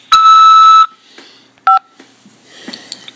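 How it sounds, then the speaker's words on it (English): A loud electronic tone sounds on a prison phone call from a corrections facility, followed by a shorter keypad-style double tone and faint line noise, with no voices. "After the beep, press 5 to accept this call."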